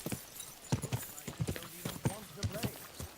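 Rhythmic clip-clop of horse hooves at a walking pace, close by, with a voice talking over it.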